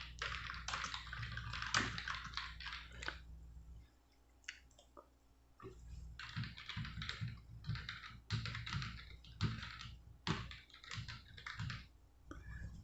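Code is typed on a computer keyboard, heard as bursts of close, fast key clicks separated by brief pauses across the whole stretch, with a low hum underneath and no clear speech.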